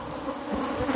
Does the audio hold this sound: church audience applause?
no